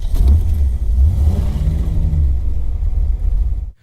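A restored 1965 car's engine revs hard up close, a deep rumbling roar that surges and holds, then cuts off abruptly at the end, with no talking.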